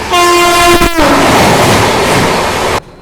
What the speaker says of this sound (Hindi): कोई स्पेशल गाड़ी आ रही है बहुत तेज भाई